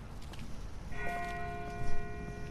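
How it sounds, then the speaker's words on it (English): A distant church bell tolls in The Walking Dead video game, its ringing tone swelling in after a quiet start and hanging over low ambient background noise. "That's not the same bell as before. This one's further off."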